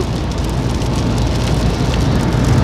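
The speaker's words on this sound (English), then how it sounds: "It's raining out." Steady rain patters densely and loudly, a constant wash of hiss, heard from inside a moving car on a highway road trip.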